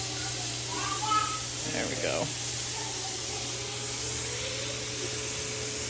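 A pressure canner vents steam in a steady, continuous hiss over a low hum, while a person speaks briefly.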